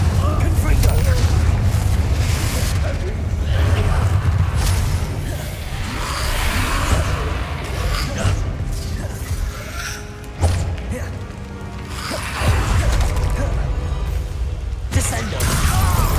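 Fire and blasting spells, Incendio and Confringo, cast in the video game Hogwarts Legacy: booming blasts, crashes and whooshes over a dense bed of game effects and music, with character voices heard in places.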